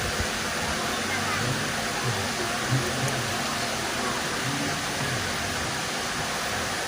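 A river flows beside a riverside restaurant with bamboo huts on a mountain slope, giving a steady, broad rushing wash with no break, and low voices mixed faintly underneath.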